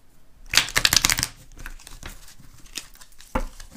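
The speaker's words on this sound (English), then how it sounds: "Let me shuffle these up once more." Tarot cards are shuffled by hand in a quick burst of close, crisp riffling, followed by a few softer card taps and shuffles.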